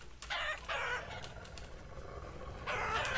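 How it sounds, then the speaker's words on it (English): Video game chickens in Vintage Story cluck and squawk in short bursts, fairly faint, over a quiet background hum with no talking. "You're just harassing the chickens."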